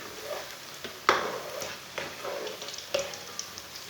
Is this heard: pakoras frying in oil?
yes